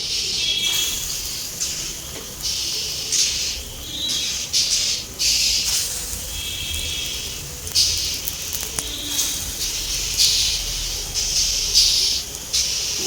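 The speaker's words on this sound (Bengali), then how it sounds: "এখন বড়ার শেপে দিয়ে দেব।" Semolina laddoo fritters fry in hot refined oil with a steady, bright sizzling hiss that swells and dips in waves throughout, close and fairly loud, with no talking.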